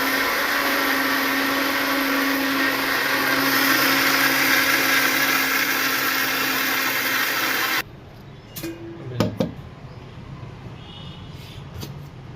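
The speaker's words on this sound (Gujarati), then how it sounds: "તો આવી રીતે સરસ પીસાઈ ગયું છે ચોખા અને દાળ મિક્સરના જારમાં।" A mixer grinder whirs loud and steady as it grinds rice and lentils with water in its jar, then cuts off abruptly, followed by a few clatters of the jar.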